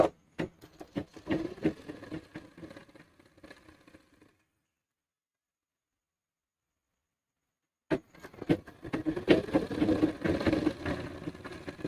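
A sewing machine stitching a seam on Bermuda-style half pants, a rapid motor whir with clattering needle strikes, running in a short burst, falling silent for a few seconds, then starting again.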